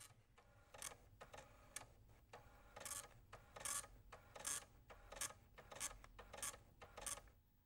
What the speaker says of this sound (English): Ah, dot matrix printer.